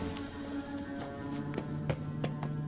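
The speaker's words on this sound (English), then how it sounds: "Another horse." Horse hooves clip-clop steadily in the Witcher video game, a run of sharp, evenly spaced footfalls set close against a constant low game ambience.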